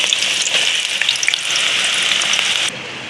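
Finely sliced onion drops into hot oil in a karahi and sizzles loudly and continuously, a bright crackling fry that cuts off abruptly near the end.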